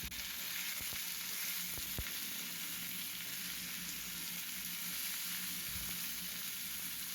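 Chicken with curry leaves sautéing in a pan, a steady broad sizzle of frying that runs unbroken and fairly close, with a few faint clinks of stirring and no talk.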